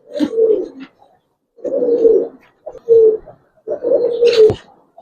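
Giribaz pigeons coo in four rounded, throaty bursts separated by short pauses, close by and fairly loud, with no talking.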